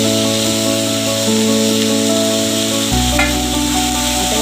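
Steady loud sizzling of mixed leafy vegetables, cowpea and capsicum frying in a hot kadhai, a continuous hiss with faint stirring scrapes and no talking.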